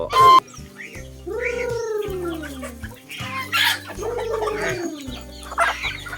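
Free-range chickens clucking and squawking close by in their coop, a few drawn-out calls rising and falling over a low steady engine hum.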